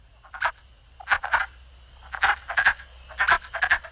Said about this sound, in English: This is wood frogs quacking.